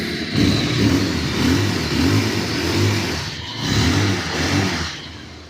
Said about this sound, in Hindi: इस बीस्ट का आप इंजन साउंड आप लोग सुन लो कि बीस्ट कैसे दहाड़ता है।